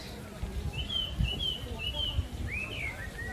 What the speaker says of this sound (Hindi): हर जगह आप चिड़ियों की आवाज़ सुन सकते हैं।